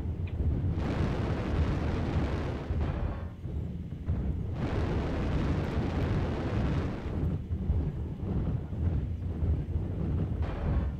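Artillery strike explosions in MechWarrior Online roll out as long, dense, rumbling blasts in two big surges, loud and continuous with no talk over them.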